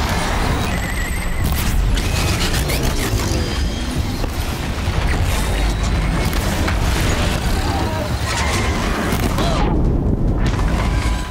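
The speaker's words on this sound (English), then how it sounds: "That's an explosion that I don't mind" Explosions in the PS4 video game Horizon Zero Dawn during an arena battle make loud, dense, continuous booming and crashing blasts with heavy low rumble, and one burst follows another.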